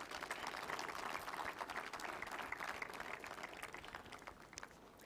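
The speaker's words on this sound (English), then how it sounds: "I think you should give a clap for yourself for that" An audience at a corporate visual identity launch event applauds, steady dense clapping from many hands filling the room, moderately distant and tapering slightly toward the end.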